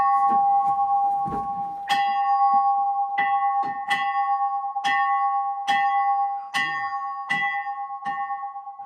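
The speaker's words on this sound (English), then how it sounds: "the original bell of the church" A church bell, the church's original bell, at Kirkmichael Parish Church, struck repeatedly at a steady pace, each clear ringing strike overlapping the last one's lingering hum, loud and close.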